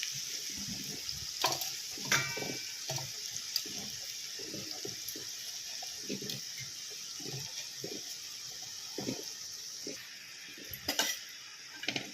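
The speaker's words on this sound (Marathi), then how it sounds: "त्याला आपण फ्राय करतो. सगळे फ्लावरचे पीस मी अशा पद्धतीने पॅनवरती ठेवून घेतलेले आहे." Cauliflower pieces frying in a pan, a continuous bright sizzle close by with scattered crackles and soft knocks as pieces settle.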